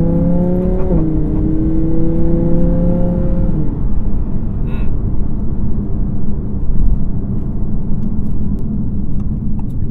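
Audi R8 V10 Plus in dynamic mode, a loud engine whine that climbs then drops as it downshifts, settling into a steady heavy road and engine roar from inside the car.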